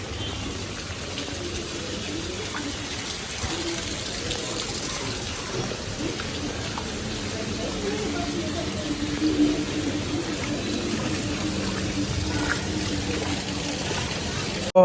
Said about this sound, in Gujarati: અવાજ એ કંઈક ગજબનો અવાજ આવે કારણ કે છત્રી ઉપર પાણી પડે એટલે અવાજ તો આવે જ